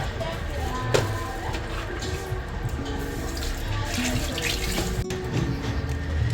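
Water runs steadily from a tap into a sink nearby, a constant splashing flow with faint clatter and voices in the background.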